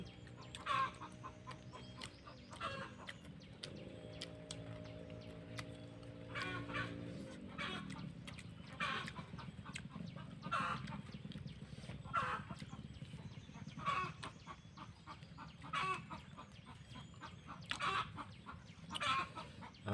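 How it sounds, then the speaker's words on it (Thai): Chickens cluck steadily around a rural Thai home kitchen, clucks arriving in repeated bursts over a constant low background hum, with no talking. "เสียงไก่ขอไก่หน่อย"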